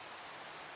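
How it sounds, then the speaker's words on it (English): Steady rain falling as weather ambience in a video game, a continuous even hiss with no breaks or distinct drops, faint and alone throughout. "Unfortunately, I can't do anything about the rain."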